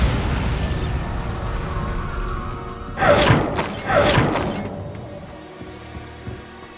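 Two heavy blasting impacts from a Bombarda spell in Hogwarts Legacy, a pair of loud booming bursts about a second apart over steady game background noise.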